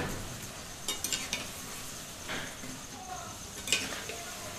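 Raw potato French fries fry gently in hot oil over medium heat, giving a soft, low hiss with occasional clinks and scrapes of a utensil against the pan.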